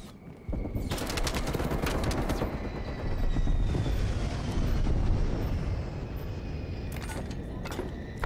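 Rapid automatic TEC-9 gunfire in the video game Call of Duty Black Ops Cold War, dense bursts of shots over a busy, noisy battle mix, loud and sustained with no voices.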